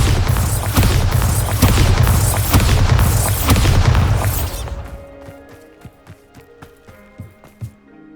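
Bombarda spell blast in Hogwarts Legacy, a loud booming explosion with rumbling crashes and debris for several seconds, then fading into scattered small clatters and footsteps.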